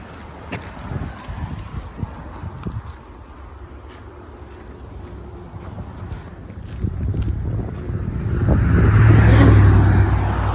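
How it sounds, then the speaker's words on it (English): A car approaches and passes close by, rising from a wind-buffeted outdoor background to a loud low rumble of engine and tyres at the end, with no talk over it. "Here comes the car."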